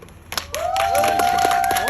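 Clapping from a street audience at a magic and juggling show builds quickly and holds steady, with a tonal whistle-like sound running over it.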